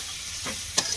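Garlic sizzles in a hot pan as a steady close hiss, with a couple of brief stirring scrapes cutting through near the end.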